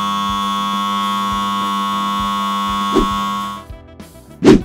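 A steam iron's safety alarm sounds as a loud, steady electronic tone held for about four seconds, then cuts off, followed by a couple of brief clicks or thumps.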